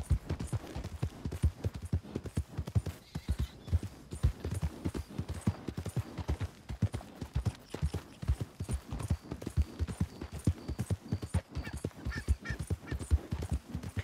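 A horse's hooves clip-clop steadily in Red Dead Redemption 2, a continuous even rhythm of close hoofbeats with faint bird or goose calls in the background.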